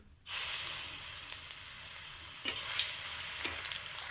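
Garlic hits hot oil with a sudden sizzle that settles into steady frying, with a few stirring scrapes along the way.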